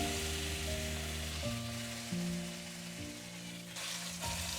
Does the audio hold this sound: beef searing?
yes